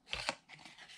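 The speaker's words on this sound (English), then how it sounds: "So I'm going to trim off just a little bit here" Scissors trimming paper for a card box: two quick, crisp snips close by, then fainter rustling and clipping, with no voice.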